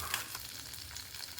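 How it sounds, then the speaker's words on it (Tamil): Small onions, garlic and curry leaves frying in sesame oil in a pan, a soft, steady sizzle with light stirring, faint and close, no voices. "கூடவே சின்ன வெங்காயம், பூண்டு, கருவேப்பிலை எல்லாமே சேர்த்து நல்லா வதக்கி விட்டுருங்க."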